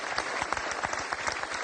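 Studio audience on a French TV quiz show applauds in a dense, steady burst of clapping, fairly quiet and short, with no voices over it.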